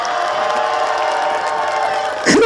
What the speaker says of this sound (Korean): 여러분들께서 박수 함성을 크게 외쳐주셨기 때문에